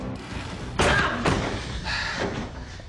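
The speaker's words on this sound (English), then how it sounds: "Guys, they're trying to open the trap door." Heavy trap door forced open, two loud thudding slams close by over a murky, reverberant background.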